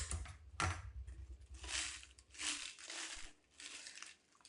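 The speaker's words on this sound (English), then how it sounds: "we'll punch that hole out right on the dot" A paper leg for a homemade shadow puppet is punched through with a hole punch, giving a few crisp crunching and crinkling bursts of paper, close and fairly quiet, with short pauses between.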